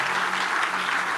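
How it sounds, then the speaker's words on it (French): A church congregation breaks into a short, dense burst of applause, loud and close, steady clapping from many hands. "On ne va pas prier. Acclame seulement."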